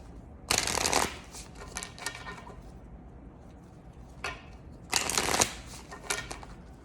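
A deck of angel oracle cards being shuffled: several brisk riffling bursts separated by pauses, close and fairly quiet, with softer card rustles in between.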